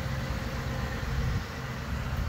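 A 2020 Ford F-150 with a 5.0 V8 idles steadily and up close, a low continuous rumble with no talk over it.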